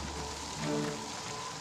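Steady rain pours down in an even, unbroken hiss that fills the whole moment, with a brief swell in the middle and no voices.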